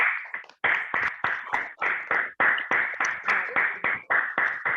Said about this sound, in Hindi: एक बार विकास सर के लिए भी जोरदार तालियां होनी चाहिए जरूर